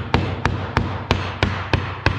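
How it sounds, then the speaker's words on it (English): A dead blow hammer taps a seal installer on a 12-valve Cummins engine during a rebuild, seven evenly spaced, sharp knocks close by with short pauses between them and no talk. "You just tap it in so it's all the way around. I just use a dead blow."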